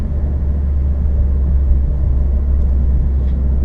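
A heavy haul truck with an automatic transmission accelerates with a deep, steady engine rumble heard from inside the cab, a constant low drone with no gear-change breaks.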